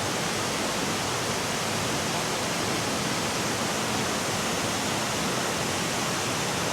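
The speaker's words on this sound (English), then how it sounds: "I can feel the coolness from all that water, and then the noise just" A waterfall pours inside a cave at Springbrook National Park, a loud continuous roaring rush of water that fills the space evenly without pause.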